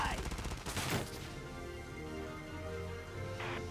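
Rapid gunfire bursts in the Valkyria Chronicles 4 video game, dense crackling shots up front, then a sustained rumbling battle din with another burst near the end.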